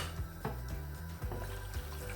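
Water poured from a cup into a cooking pan of potatoes and fenugreek leaves, a close, steady splashing trickle lasting a couple of seconds with a faint low hum behind it.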